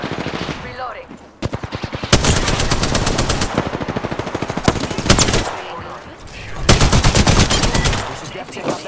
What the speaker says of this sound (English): Another squad attacking. Taking fire.